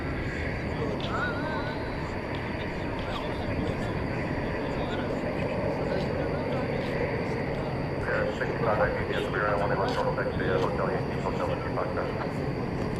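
A jet takes off from runway 18 right at DFW Airport at night, its engine roar a steady loud rumble throughout, with voices talking underneath.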